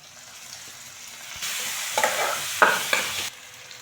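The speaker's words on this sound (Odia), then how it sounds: "ଏବେ ଅଦା ରସୁଣ ଛେଚା ପକେଇବା।" Onions frying in a pan with ginger garlic paste added, stirred: a steady close sizzle that swells loudly once the paste goes in, with scraping stirs and brief crackling bursts, then quiets; no talk.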